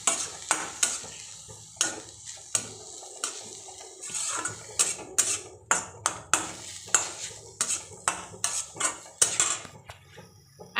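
Tomato sauce and pizza sauce being stirred in a pan for a paneer and soybean pizza roll topping, with repeated sharp scraping and clinking strokes of a utensil against the pan over a soft sizzle, close and steady, no talk.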